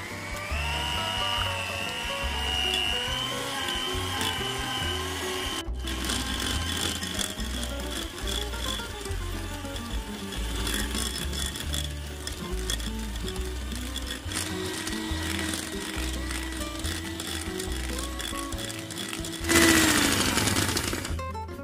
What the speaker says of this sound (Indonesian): Abis ini kita kocok untuk bisa dispuit.